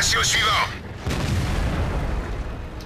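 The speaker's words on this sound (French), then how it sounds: "On a un appui de l'artillerie." Artillery fire in the tank game World of Tanks lands with a deep boom and a rumbling tail, heard once loud and close after a short bright burst.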